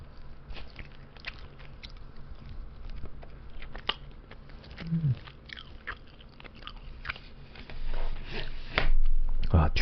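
Close crunchy bites and wet chewing of microwaved, reheated fried finger chicken, a series of irregular crisp snaps and mouth sounds, with some quiet sniffing and soft handling noises between bites.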